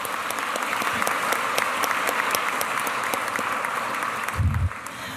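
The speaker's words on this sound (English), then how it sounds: "Another big round of applause for them." A crowd claps steadily and fairly loudly for several seconds, a dense patter of many hands filling the room before tapering off.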